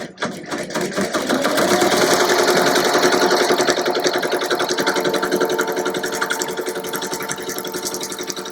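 An embroidery sewing machine stitches a faux chenille appliqué patch with a fast, continuous mechanical chatter that starts abruptly and holds steady, loud and close, with no voices.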